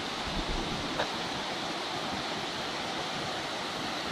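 The lowest tier of Pa La-U waterfall, running with modest flow, gives a steady, even rush of falling water that carries on unbroken throughout.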